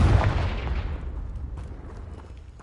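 A Confringo fire spell in Hogwarts Legacy explodes as a sudden loud blast that rumbles and decays over a couple of seconds.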